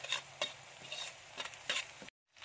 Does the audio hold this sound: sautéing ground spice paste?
yes